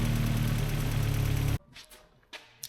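A cold VW Mk2 Golf GTI 16V engine idling right after starting, a loud, rough steady rumble that cuts off abruptly, leaving a few faint clicks and knocks.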